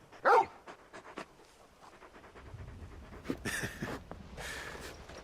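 A large dog companion pants in Final Fantasy XVI, rapid breathy huffs close by, with a sharp burst near the start and softer game ambience and effects later.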